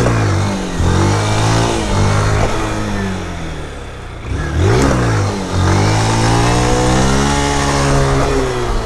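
Yamaha Fazer 160 motorcycle from 2023 revving repeatedly, the engine note rising and falling in loud, close accelerating pulls with a brief dip between bursts.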